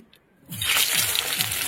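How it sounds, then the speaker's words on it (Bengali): Mustard oil pours into a wok for frying potatoes, a close, steady liquid rush that begins after a short quiet moment and runs on to the end. "কড়াইতে সর্ষের তেল দিয়ে দেবো,"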